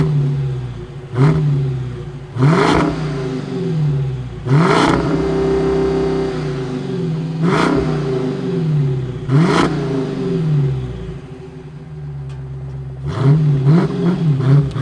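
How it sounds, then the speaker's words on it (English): A 485-horsepower Hemi V8 in a 2022 Dodge Challenger Scat Pack idles with a deep rumble, broken by repeated hard revs that surge and drop back, loud and nearby. "we wrangled up in this Hemi 485 horses."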